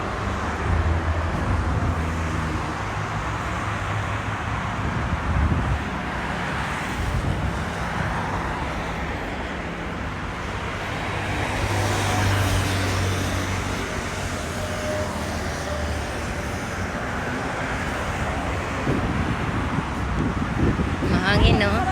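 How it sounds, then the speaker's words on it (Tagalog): Steady wind roars and buffets across the recording, with traffic rumbling in the background and people talking occasionally. "Malakas yung hangin, pero hindi pa masyadong ano"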